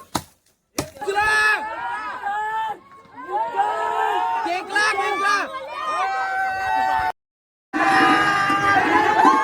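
A crowd gathered at a traditional village Holi celebration, with many voices shouting and chattering together at close range, loud and continuous apart from a short silent gap.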